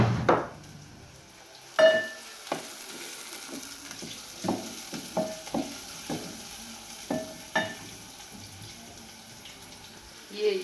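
A cooking stick knocks and scrapes against a pan while stirring large fish, with repeated sharp taps spaced irregularly over a soft sizzling, watery background.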